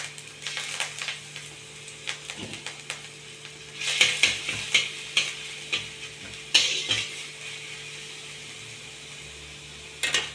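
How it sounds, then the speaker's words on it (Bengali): Ginger frying in oil in a wok, a soft sizzle under scraping and stirring clatter, with louder metallic strokes in short bursts and a steady low hum in the background. "কড়াই তেল দিয়ে একটু আদা ভেজে নিচ্ছি।"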